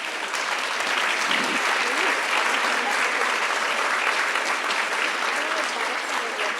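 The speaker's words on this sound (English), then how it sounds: "let's give a big round of applause to this panel" Strong, steady applause from the audience of a women entrepreneurs forum for a panel, a dense, full crowd clapping evenly throughout without pause.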